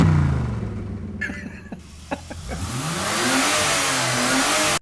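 A man imitates an engine revving with his voice, a rough, loud, sustained exhale that rises and holds like a mid-size car engine under acceleration, heard alone with no other talk.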